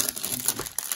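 Sealed plastic wrap crinkles as it is opened on a Presstine Pressticube trading card cube, a brief close rustle and crackle of thin film lasting about a second.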